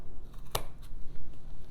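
Scissors make one quick, crisp snip through the edge of a canvas print being trimmed for a gallery wrap, close and clear in a quiet room, with a fainter rustle just after.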